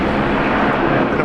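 Qantas Airbus A330-300 taking off from Brisbane International Airport, a loud, steady broadband engine roar held throughout a short stretch with no voices.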